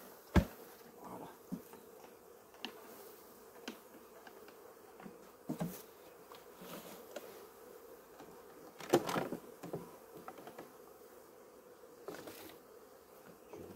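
Honey bees from a swarm hive being moved outdoors give a soft, steady buzz, faint and somewhat distant, broken by occasional handling knocks and bumps.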